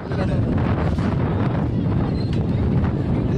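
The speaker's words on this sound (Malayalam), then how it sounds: "നല്ല കാറ്റ്." Strong wind at night near the Adiyogi statue at the Isha Foundation in Coimbatore, a loud steady rumbling roar buffeting the microphone with no letup throughout.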